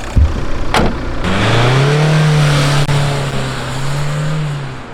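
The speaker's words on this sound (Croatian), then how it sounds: "Ništa nam probati upaliti auto." A faulty car that had refused to start at a petrol station cranks briefly, fires up and revs, its engine holding a steady loud idle-to-rev drone close by for several seconds.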